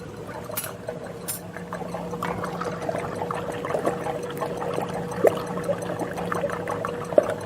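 A bottle of liquid poured into ice cream mix, a steady close trickle and gurgle running throughout with a few small splashes.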